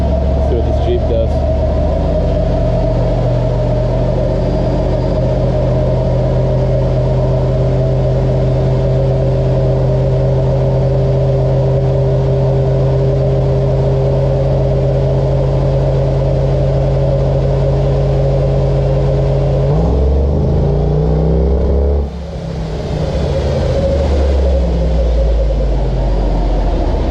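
Engine of a 2011 Mitsubishi Lancer Evolution X GSR after fire damage, holding a steady loud drone with a shift in pitch near the end as the revs change.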